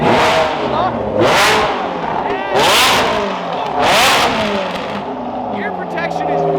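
A Ferrari supercar engine revs hard three times, each loud, close blip rising and falling in pitch between rumbling idle stretches.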